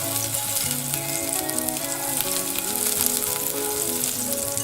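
Two tablespoons of butter melting over medium heat in a pan, giving a loud, dense, continuous sizzle that holds steady from start to finish with no voices.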